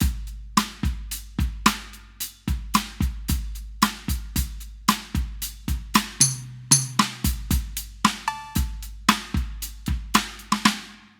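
Acoustic drum kit voices fired from a Roland TM-2 trigger module play a steady groove of kick, snare and tom hits with cymbal-like crashes, loud and close, with no talking.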